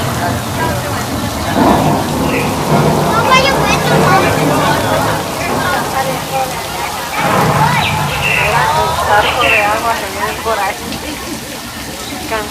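Simulated rain effect on the Universal Studios Hollywood backlot tour, a steady wash of falling water and splatter on surfaces with rumbling swells, continuous and fairly loud, with crowd voices and chatter mixed throughout.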